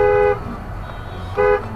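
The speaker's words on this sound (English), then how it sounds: "Honk." Two short, loud car horn honks in traffic at a green light, where a driver is not moving; the first blast is followed by a pause of about a second over road noise, then the second.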